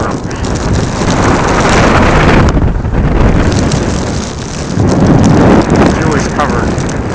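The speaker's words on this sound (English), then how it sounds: "Pretty intense storm." Blizzard wind and driving rain storming over houses at Chesapeake Beach, Maryland, a loud, continuous roar of gusts buffeting the microphone, swelling and easing in waves for the whole stretch.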